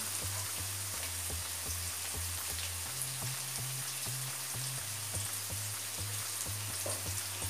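Curry leaves and slit green chillies frying in hot oil for a dried fish thokku, a steady dense sizzle and crackle with a low rhythmic background beat, no talking.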